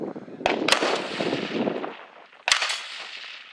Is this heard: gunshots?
yes